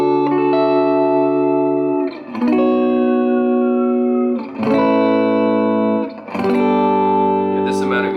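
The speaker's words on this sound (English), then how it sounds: "Yeah, this amount of reverb is good." An electric guitar played through a Milkman amp with reverb on sounds out sustained chords that ring and decay, changing every couple of seconds with short gaps, close and alone.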